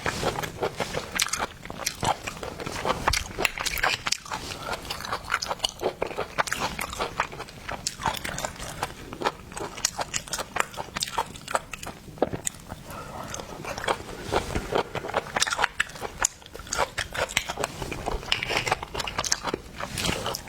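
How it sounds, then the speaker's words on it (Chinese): Steady close-up biting and crunching of seafood shells (shrimp, crab, squid) in a seafood-eating session, a dense run of crisp cracks and chewing with no talking. "吃了个壳。"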